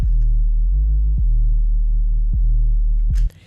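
A deep, booming 808 bass note holds steady and loud, with a few short pitch-gliding hits along the way, then cuts off abruptly near the end.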